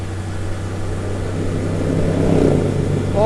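A motorcycle engine revs, heard from the rider's position as a steady low drone with a constant hum that gradually swells louder toward the end, with no talking.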